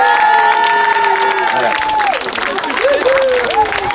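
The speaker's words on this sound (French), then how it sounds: "Pascal mérite vraiment vos applaudissements." Audience applause at a photo marathon award ceremony, steady clapping from a seated crowd with a few cheers, while a voice speaks briefly over it and tonal sounds drift through the background.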